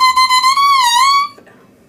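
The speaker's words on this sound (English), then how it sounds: "The oboe's reed can be played independently from the oboe." A buzzy, nasal squawk from a bare oboe reed played without the instrument, bending slightly in pitch, close and fairly loud before cutting off.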